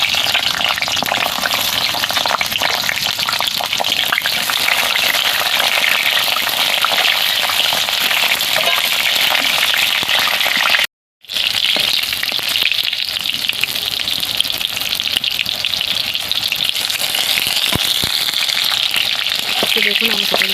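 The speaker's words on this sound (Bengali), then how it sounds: "খুব হালকা জালে পটলটাকে লাল লাল করে ভেজে নেব" Pointed gourd slices fry in hot mustard oil in a kadai over a very low flame, giving a continuous close sizzle with occasional stirring, broken once by a brief silent gap.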